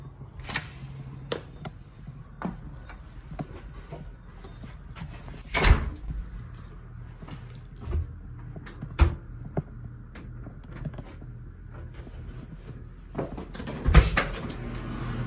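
A door in a house opens and closes with several sharp clicks and thumps scattered among quieter handling noises and rattles, some knocks louder and nearer than others.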